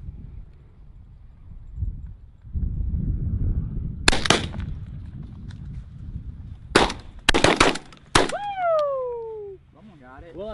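Guns fire during a pigeon hunt outdoors in several sharp, loud reports spread across the span, some coming in quick pairs. People talk and shout excitedly between the shots, and a descending whistle-like tone follows.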